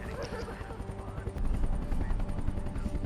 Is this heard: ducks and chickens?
no